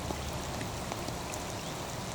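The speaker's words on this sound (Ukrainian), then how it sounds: "Справжня злива потемніла, затягнула." Heavy rain pours down steadily in a dense, even hiss of countless drops striking water and surroundings out in the open, loud and unbroken without any voices.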